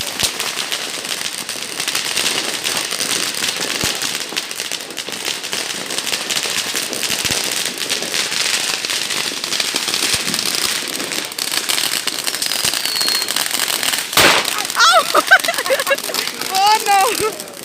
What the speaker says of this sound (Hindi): ये वाले पटाखे, ये छोटे छोटे बच्चों के लिए होते हैं